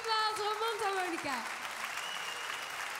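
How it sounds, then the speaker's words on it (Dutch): A concert crowd at Paradiso applauds as a harmonica tone fades out, with a clear rush of clapping rising beneath the last sustained notes and continuing after them. "Mag ik nog een net iets groter applaus voor Pim Walter en mondharmonica?"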